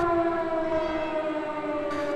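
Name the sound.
civil defense sirens sounding for a minute of silence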